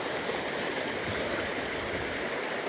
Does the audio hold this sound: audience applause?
no